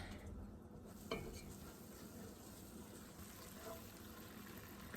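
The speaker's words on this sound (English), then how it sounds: "all of this foaming that's happening is the water evaporating out" Butter foaming and sizzling in a light-colored pan while being cooked down into ghee, a steady, quiet frying hiss with soft stirring and one brief clank near the start.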